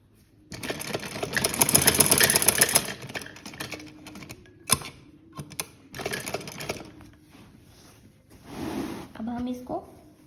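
Sewing machine stitching a seam on a kurti, bursts of rapid close mechanical rattling separated by pauses, with a voice talking over parts of it.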